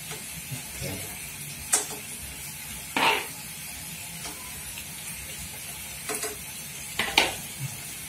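Madura-style goat satay grilling over heat, a steady low sizzle and hiss running throughout, broken by a few sharp clacks and scrapes as the skewers are handled.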